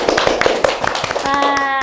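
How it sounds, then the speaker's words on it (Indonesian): An audience claps hands in quick, sharp, rhythmic bursts that are loud and close, and music enters near the end. "kita tepuk tangan sekali lagi yuk"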